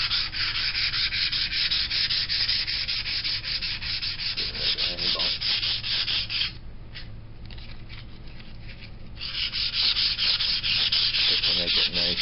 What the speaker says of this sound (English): Take a little sandpaper.